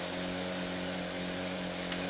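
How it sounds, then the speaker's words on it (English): A drill bores holes in stone deep inside a Kosovo mine shaft to prepare the next detonation. It makes a loud, continuous, droning mechanical roar that holds steady throughout, close by, with no voices. "Here, Sabit Bala and his assistant Bilim are drilling holes in the stone for the next detonation."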